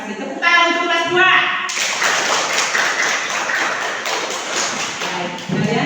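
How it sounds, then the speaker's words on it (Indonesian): A class of schoolchildren claps together in a classroom, a dense burst of applause lasting a few seconds, preceded by a teacher's voice. "Tepuk tangan untuk kelas 2."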